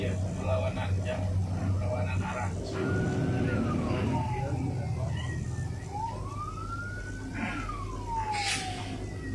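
A wailing ambulance siren rises and falls several times at a moderate distance over steady traffic rumble on a road, with people talking at first.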